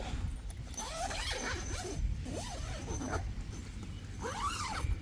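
A zipper on the inner mesh of a small PYLON-S touring tent is drawn open in several rasping pulls, close and fairly quiet, with rising and falling scratchy strokes.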